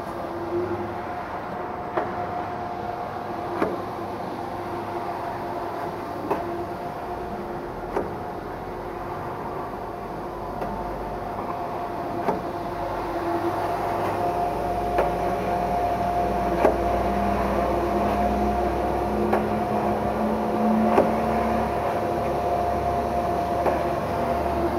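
A Purnell Parts soft pretzel dough rolling machine runs, 220 volt single phase, rolling 30-inch, 3.5-ounce noodles: a steady mechanical drone and hum with faint periodic clicks, growing slightly louder partway through, no voices.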